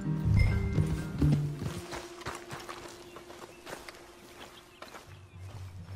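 Horses from the video game Red Dead Redemption 2 walking with clip-clop hoof steps and snorting, loud and close at first and then settling into quieter steady hoof falls in an outdoor game scene.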